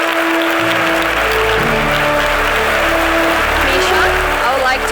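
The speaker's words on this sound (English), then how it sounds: "And a round of applause for everyone." A crowd at a blockchain, AI and IoT tech panel claps for the panelists, giving steady, loud, sustained applause for about five seconds while a speaker's voice carries over it.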